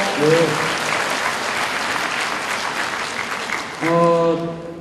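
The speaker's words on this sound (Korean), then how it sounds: "박수 한번 부탁합니다" An audience claps steadily at a political talk show, a sustained wash of moderate applause from a seated crowd, with brief speech-like tones at the start and again near the end.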